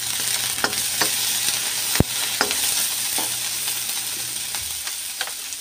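Boiled meat stirred into garlic and onion sautéed in oil for ginisang bagoong pakbet, with a continuous sizzle and intermittent spoon scrapes, including one sharp clack against the pan, close up.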